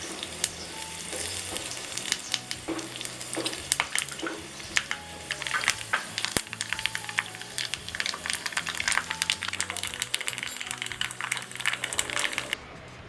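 Mustard seeds and dried red chilies tempering in hot oil for Kerala moru curry, a steady crackling sizzle dotted with sharp popping bursts, fairly soft and close, ending abruptly.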